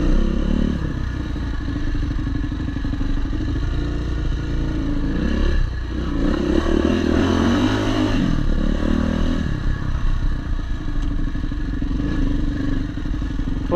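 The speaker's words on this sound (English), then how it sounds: "this engine sounds like butter after I put all this work into it." A Yamaha WR400F dirt bike engine runs loudly and steadily on trails, its pitch dipping and rising briefly midway as the throttle is blipped, with some mechanical clatter.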